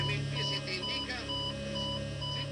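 Aboard an airliner's flight deck, a cockpit warning alarm repeats in steady electronic tones on a cockpit voice recorder tape, with faint muffled voices beneath and a low hum at the start.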